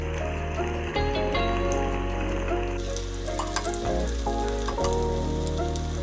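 Paneer fingers deep-fry in hot oil with a continuous crackling sizzle, partly masked by steady background music with prominent tonal notes throughout.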